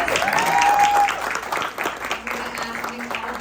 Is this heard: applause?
yes